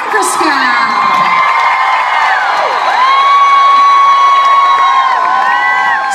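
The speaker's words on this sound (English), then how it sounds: "So let's cheer for Adam's talent, coordination, and muscles." Concert audience at a show cheering for the drummer, a loud, sustained roar of shouts and high whoops from a large crowd, close and continuous throughout.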